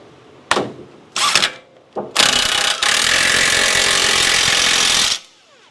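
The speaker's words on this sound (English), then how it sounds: "let's hit the nut with the 22 here. Make this guy nice and tight." Loud power tool bursts from work on a Toyota Tundra 5.7 4X2 front strut nut with a 22 mm socket: three short hammering blasts, then a sustained rattling run of about three seconds before stopping.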